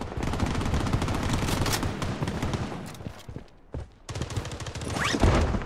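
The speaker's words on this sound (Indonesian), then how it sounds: "Saya mendengar suara tembakan." Rapid bursts of automatic gunfire in the video game Blood Strike crackle loudly and continuously, with a brief lull before the shooting resumes in a dense, chaotic volley.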